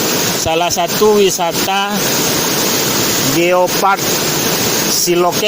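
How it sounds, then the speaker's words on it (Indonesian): Batang Taye waterfall in the Silokek Geopark, Sijunjung, West Sumatra, Indonesia: a loud continuous rush of falling water fills the whole clip, with someone talking over it throughout. "Ini salah satu spot wisatanya, air terjun"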